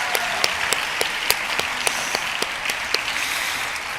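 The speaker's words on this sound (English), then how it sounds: "So let's give them a round of applause for that." An audience applauds at a high school spring band concert, a continuous wash of clapping with several sharp individual claps standing out near the front.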